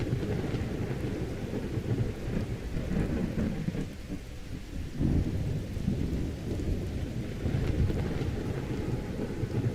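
A video game thunderstorm from the Skyrim True Storms mod, with heavy rain hissing constantly and deep thunder rumbling and rolling in waves, loud and dense throughout.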